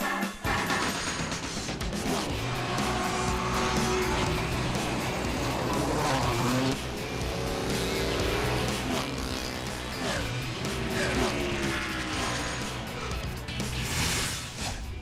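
Daytona prototype race cars in the Rolex Series scream around Iowa Speedway's road course, a continuous loud roar of engines with shifting pitch as cars pass and downshift.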